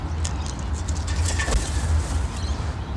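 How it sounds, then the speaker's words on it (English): Wild pigeons or doves coo outdoors in low, repeated calls, with a steady low rumble of distant traffic underneath and a few brighter chirps scattered through. "These birds now know me."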